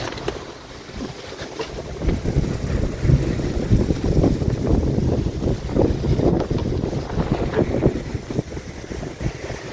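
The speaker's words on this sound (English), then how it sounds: "Kind of hard to sail when the wind's doing that." Strong wind buffets a sailing boat as it rounds a big headland, a steady roaring rush with constant gusty microphone buffeting and water noise throughout, close and loud, with no talking.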